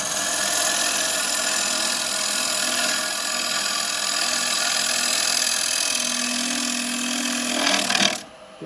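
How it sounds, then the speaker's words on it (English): Carbide turning tool cutting a wooden bowl on a lathe, a steady close rasping scrape held for about eight seconds with a rising tone near the end before the cut stops. "I'm going to come in again with my carbide so I can get a nice rounded bottom on that"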